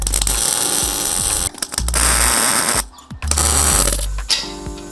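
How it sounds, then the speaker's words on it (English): A 1970 Plymouth Duster's exhaust header collector being cut apart: loud, close grinding and buzzing of a cutting tool in long sustained bursts, broken by short pauses where the tool stops and restarts. "so we're cutting the collector apart"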